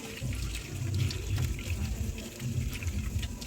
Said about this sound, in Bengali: এটা ছাড়িয়ে এটা একটুখানি ধুয়ে নেব